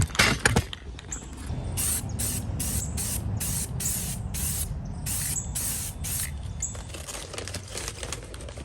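Rust-Oleum High Performance Red spray paint hisses from a can in repeated short bursts with brief pauses, close and loud, while parts of a restored 1950s Sears Dunlap drill press are painted; no talking.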